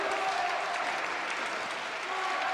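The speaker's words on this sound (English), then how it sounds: "The crowd at the Gate Center now on its feet." A standing crowd at the Gate Center applauds at match point of a 1999 men's volleyball match against George Mason, a sustained dense clapping that fills the gym without a break.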